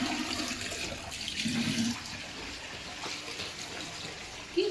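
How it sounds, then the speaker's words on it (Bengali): Water poured out of a container before watering plants, a continuous splashing gush outdoors that eases toward the end. "আমি প্রথমে জলটা ফেলে দিই ফেলে দিয়ে তারপরে গাছে দেবো জল"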